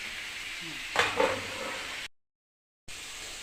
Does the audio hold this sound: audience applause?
no